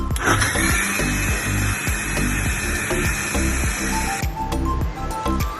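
A blender grinding carrots with milk for a carrot almond milkshake, a loud, steady high-pitched whir with rhythmic chopping pulses as the blades churn, close by, then slowing slightly toward the end.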